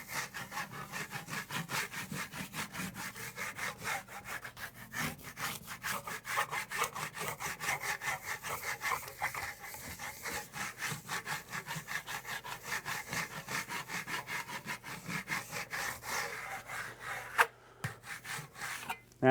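A fresco plaster surface is burnished by hand with a trowel, giving quick, rhythmic back-and-forth rubbing strokes that scrape steadily and close up for a long stretch, with no talking.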